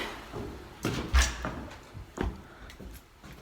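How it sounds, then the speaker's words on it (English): Keys and an apartment door lock being worked, with a few close metallic clicks, rattles and a bump spread over a few seconds in a quiet indoor space. "So I'm locking the door, have my keys."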